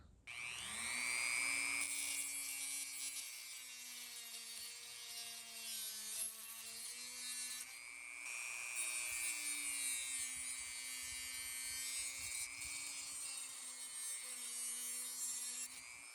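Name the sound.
cutting a 3D-printed toy car bumper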